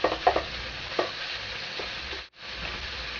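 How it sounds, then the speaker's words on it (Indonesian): Chicken pieces browning in a hot pan for soup, sizzling steadily while a utensil stirs and scrapes with a few sharp clinks near the start, up close and with no talk. "Kita tunggu ayamnya sampai coklatan sedikit."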